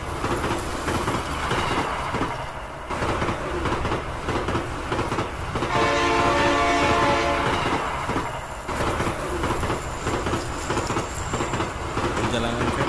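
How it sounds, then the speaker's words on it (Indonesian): A classic toy train rumbles along its track with a steady clatter, and a sustained horn blast sounds midway through; the running noise is loud and continuous, and a voice speaks briefly over it. "Kereta api sudah dalam perjalanan."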